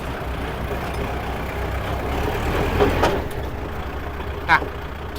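A 2021 Kubota L5018SP tractor fitted with a front blade and six-disc plough runs with a steady, loud engine rumble while gears are shifted, with a brief clunk and hiss near the end.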